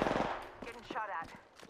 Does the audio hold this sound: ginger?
no